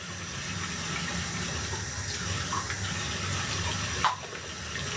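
Warm water pours steadily into a spray bottle, a continuous close-up splashing stream with a small clunk near the end and no talking.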